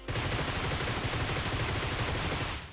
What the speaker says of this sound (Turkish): O hazere mesela patlamasına bakın.